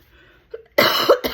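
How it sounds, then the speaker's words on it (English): A single person's lingering asthmatic cough, close and loud: a short throat catch followed by a harsh burst and a quick second hack, alone with no talk. "I'm still got an asthmatic cough left over from that last lurgy"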